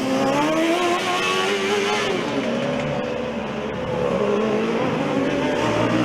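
Formula Student race cars lap a track during an endurance session, their high-revving engines whining and shifting pitch as they pass at a middle distance, with a continuous roar of track noise and no clear talk.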